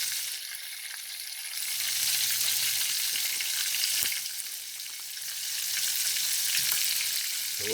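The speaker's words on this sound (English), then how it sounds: "So it's frying pretty good." Sausage sizzles in a frying pan while being cooked down for gravy, a steady crackling fry at moderate level that swells and eases with occasional stirring clinks.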